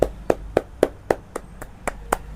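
A single pair of hands claps nine times in an even, steady rhythm, close and crisp, with no talking over it, in a classroom lecture setting.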